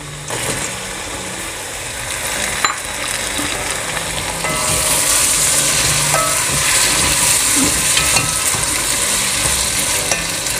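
Tomatoes frying in a pan with eggplant and potato for a spicy pickle-style curry, a steady broadband sizzle that swells louder midway, with occasional stirring scrapes and no talking.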